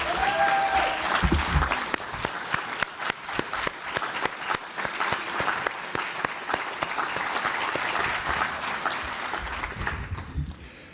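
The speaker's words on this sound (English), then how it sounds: "What I would like is all of you to applaud the professionals that are putting their careers online for you parents." An audience at a 2009 Toronto lecture on parenting and family conflict applauds the professionals in the room with steady, dense clapping that fills the hall for about eleven seconds and tapers off at the end.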